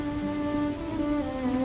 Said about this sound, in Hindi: इतनी रात को इतनी तेज बारिश हो रही है